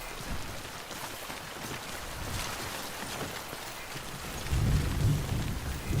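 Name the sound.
rain and thunder in a video game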